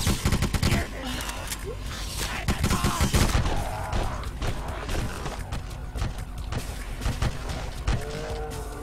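Gunfire from the video game BloodRayne, a dense burst of shots near the start followed by further scattered gunshots and loud game effects throughout.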